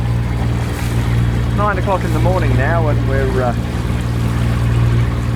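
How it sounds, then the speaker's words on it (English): A sailboat motoring under engine power on a windless morning at about five knots, a steady low engine drone with wind buffeting and water wash while someone talks over it. "there's no wind, so we're just motoring along at about 5 knots towards Wathumba Creek"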